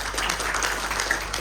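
Audience at a facility management sustainability event giving a round of applause for a presenter, a brief, even burst of many hands clapping at moderate volume.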